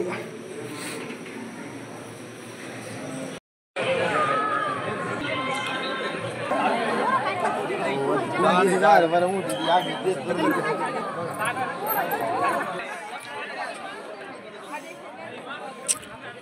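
Dense chatter from a large crowd at a Hindu temple, Shri Vruddheshwar, many overlapping voices close by and fairly loud, briefly cut off near the start and then continuing steadily before thinning toward the end.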